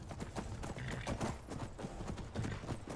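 Horse hooves clip-clop at a steady walking pace in the Skyrim video game as a guard leads a horse along, a moderately loud rhythmic clatter heard alone.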